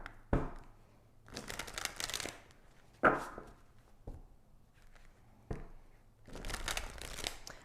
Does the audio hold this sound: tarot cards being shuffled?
yes